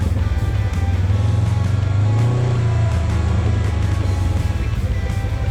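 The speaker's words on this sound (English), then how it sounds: "Test out the engine braking here in low." A 2025 Polaris RZR Trail UTV engine drones loud and close while engine braking in low gear, with a steady low rumble that rises slightly midway and no talking.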